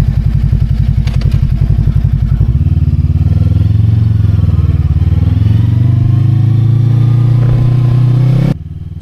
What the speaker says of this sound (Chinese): 看一下是圆灯版的声浪怎么样，低沉而性感